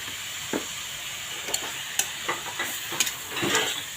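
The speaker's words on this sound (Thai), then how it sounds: "ขัวเนื้อให้มันสุกก่อนนะคะ" Fatty beef stir-fries in a pan with a soft background sizzle, broken by scattered scraping clicks and taps of a utensil, fairly quiet and without speech.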